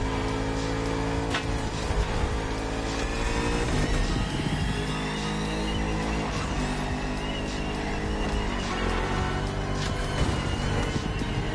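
The Bugatti Vision GT, a concept car from a video game, revs loudly and continuously close up. The engine note climbs and falls through gear changes with a racing whine, and nobody speaks.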